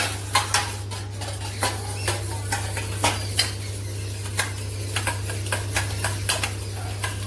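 A utensil beats eggs in a bowl with quick, irregular clinks and taps against the sides, close and clear over a steady low hum, with no talking.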